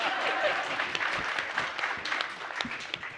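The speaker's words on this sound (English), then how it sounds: "Y'all can clap for that." Audience applause at a family-support gathering, a dense steady wash of many hands clapping close by with a few whoops and voices mixed in.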